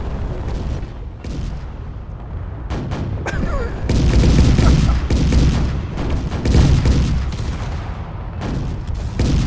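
Weapons fire at an enemy ship with red shields in a space video game, a loud, continuous barrage of booming blasts and rapid shots that swells around the middle and keeps going to the end.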